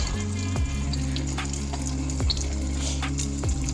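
Fish sauce is poured into a dish while cooking, a loud, steady stream of running liquid that flows continuously and close by, with a few faint clicks and no speech.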